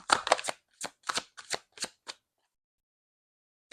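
Tarot cards being shuffled and drawn: a quick cluster of riffling flicks, then several separate soft snaps and slaps as single cards are pulled and laid down, close and fairly quiet, followed by silence.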